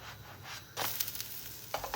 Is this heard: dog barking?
no